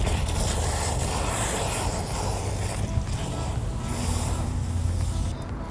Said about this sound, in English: And then we're going to activate it using the hose.